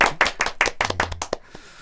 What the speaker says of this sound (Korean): 일단 뭐 박수 한번 치고 시작할까요?